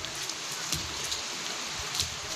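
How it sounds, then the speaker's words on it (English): Rain pounds concrete in a steady, dense hiss with scattered louder droplet taps, close and constant, with no voices over it. "The sound of rain pounding concrete is the beat"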